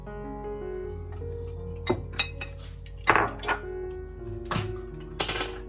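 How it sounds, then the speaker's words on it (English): Eggs and sugar dropped into a bowl for a chocolate cake batter: a few distinct clinks and thunks of shells and utensils against the bowl, spaced out over a quiet kitchen background, no speech. "In my bowl, I'm gonna put the 4 eggs, and my sugar"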